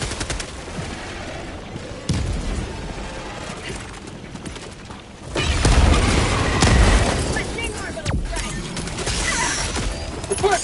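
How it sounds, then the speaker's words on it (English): Helldivers 2 bug-fighting battle with loud, dense bursts of gunfire and booms, including a heavy low-end blast around the middle, in continuous chaotic combat noise with voices talking over it. "Throwing grenade!"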